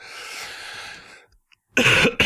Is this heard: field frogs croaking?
no